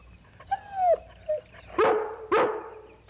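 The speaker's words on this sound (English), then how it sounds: "If you want to stay and bark at that squirrel all day, it's all right with me." A dog, a collie, gives a high whining yelp followed by two sharp, loud barks about half a second apart, close and clear with no talk over it.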